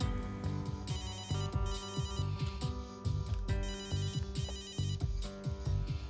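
A melodic electronic ringtone plays continuously, its short tune repeating over and over at a steady, fairly loud level with no voices.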